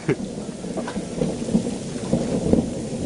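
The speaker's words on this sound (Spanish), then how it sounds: "Los ruidos que se escuchan son las erupciones." Deep rumbling from nearby volcanic eruptions while ash falls, a continuous low roar with a few swelling surges, loud and close, no talking.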